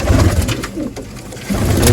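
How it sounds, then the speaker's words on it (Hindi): Pigeons in a loft give low, rounded coos in short bursts at the start and end, with quieter rustling and chatter in between, all close to the listener. "साथ ही छोड़े हैं अंदर न्यू कबूतर भी"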